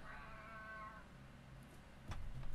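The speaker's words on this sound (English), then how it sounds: "there's a cat. Hello, cat." A single drawn-out cat meow sounds at moderate distance in a quiet indoor room, fading after about a second, followed by faint soft clicks and rustles.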